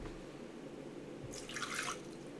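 Water poured into a blender jar for a cashew-based pizza wrap recipe, a short splashing trickle about midway through, fairly close against a steady low room hum.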